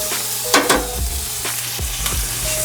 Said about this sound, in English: I'm gonna go in with my onions, right? Going in with all of them.